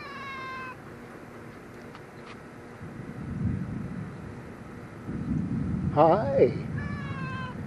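A cat meows several times outdoors, short rising and falling cries at the start and again near the end, while people talk and shout in between.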